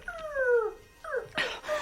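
A small white terrier in an animated adventure whimpers in a few high, wavering, descending whines, followed by a short yelp or bark, close and clear with no talk over it.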